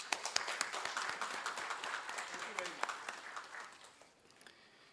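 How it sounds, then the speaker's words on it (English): Audience applause at a branch event honoring a forensic audit expert: dense, fairly quiet clapping from a crowd that continues steadily, then thins and fades toward the end, with faint voices underneath. "A huge round of applause for him."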